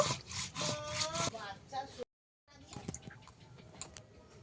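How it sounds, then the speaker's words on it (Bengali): Whole cumin seeds being ground into a fine paste for a spicy fish curry, heard as repeated rasping, rubbing strokes up close, with a short pause midway and a voice or tones over the first strokes. "গোটা জিরা নিয়ে নিয়েছি, বেটে নেব। জিরাটা মিহি করে বেটে নেব।"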